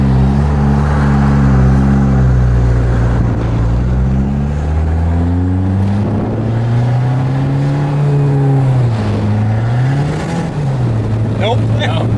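A Chrysler PT Cruiser GT with a turbocharged engine and a worn, slipping clutch accelerates while driving, its loud engine note climbing and falling in pitch as it revs, with a brief voice near the end.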